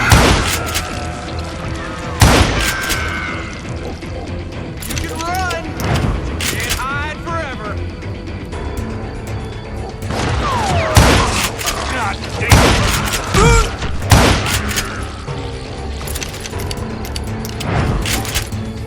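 Western shootout in Call of Juarez Gunslinger, loud scattered gunshots and bangs with crashing impacts, mixed with shouting voices and game effects.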